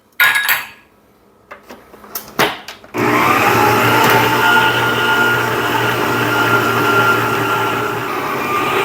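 After a few clinks of utensils and dishes, a blender starts up at low speed beating a gluten-free cassava and carrot bread dough, then holds a loud, steady motor whir close by.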